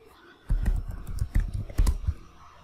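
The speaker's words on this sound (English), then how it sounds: "Type and hit enter." Typing on a computer keyboard while working in a Linux terminal: a brief burst of close, crisp key clicks in an uneven rhythm, ending with a firmer keystroke, with no voice.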